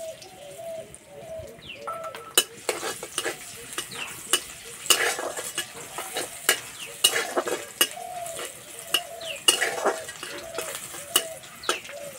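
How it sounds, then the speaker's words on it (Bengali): Crushed garlic, nigella seeds and a dried red chilli fry in mustard oil in a wok, a continuous sizzle punctuated by regular sharp clinks and scrapes of a spatula stirring against the pan. "রসুনটা একটু ভাজা ভাজা করে নেব।"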